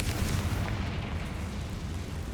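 A Confringo fire spell explodes during combat in Hogwarts Legacy, a loud, continuous rumbling blast with heavy low-end roar that fills the whole moment without letting up.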